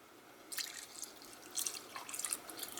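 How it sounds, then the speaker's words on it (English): Water is poured into a cooking pot for vegan jollof rice, with soft splashing and trickling in a few short bursts. It is faint and has no talk over it. "So now I'm going to add my water."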